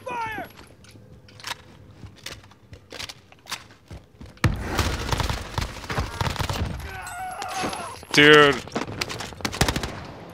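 Automatic gunfire crackles in a Warzone match, bursts scattered through the clip and a loud close volley near the end, with someone shouting briefly over the shots.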